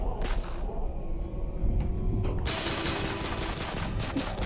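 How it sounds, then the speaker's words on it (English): A gun is fired at a mirror in the horror game Escape Bloody Mary: a few sharp cracks ring out, then a dense burst of rapid shots and shattering follows loudly near the end. "Shoot the mirror."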